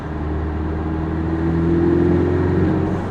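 A steady engine hum with a faint rising whine of a turbocharger spooling, building over a few seconds, muffled and even, heard from inside a 2018 Porsche Cayman S.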